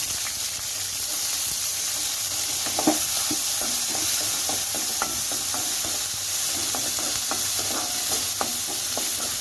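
Garlic and fenugreek seeds frying in hot oil while cooking a milk shark fish curry, a continuous close sizzle broken by scattered crackles and stirring scrapes, with no voices.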